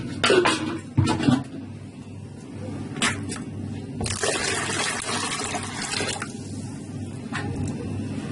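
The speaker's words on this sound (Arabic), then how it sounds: "احط شويه ميه كمان." Water poured over beets in a pot for pickling, a close liquid splash and trickle with a few clinks of a container, running in short bursts then steadier flow.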